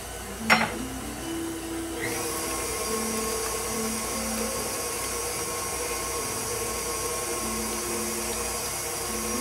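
An electric hand mixer beats a large egg into cream cheese cookie dough, its steady whirring motor hum running nonstop after a brief knock near the start.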